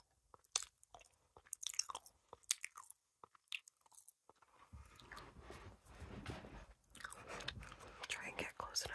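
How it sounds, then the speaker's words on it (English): Close, crunchy chewing of candy with sharp bites and wet mastication sounds, growing denser and louder midway, with faint breathy whispers. "Try and get close enough so you can actually hear me chewing"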